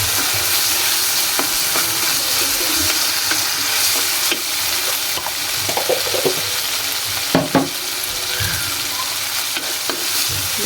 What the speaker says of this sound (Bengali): সুন্দর করে একটু কষিয়ে নেবো এই সবজিগুলো